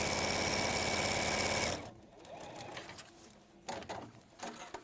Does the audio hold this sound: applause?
no